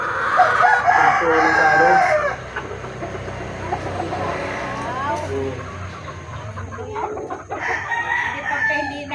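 A rooster crows loudly amid clucking chickens, with a second crow later. Someone speaks briefly over the birds.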